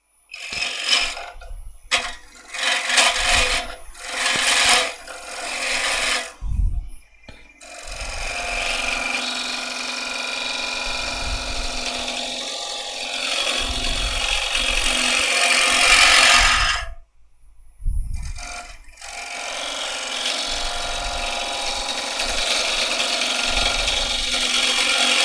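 A turning tool cuts into spinning wood on a lathe, working toward the centre to hollow the middle. Loud rough scraping comes in short bursts broken by brief pauses, then settles into a longer sustained cut.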